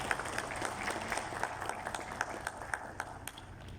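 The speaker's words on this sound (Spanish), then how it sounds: "Uma salva de palmas," Audience applause fills a hall after a geology professor is introduced at a Brazilian engineering council event, steady dense clapping throughout with no talk.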